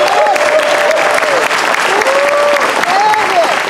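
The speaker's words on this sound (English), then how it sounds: "Let's hear it for Mitchell" An audience at a bluegrass concert claps and cheers for a banjo player, dense steady applause filling the room while a voice talks over it.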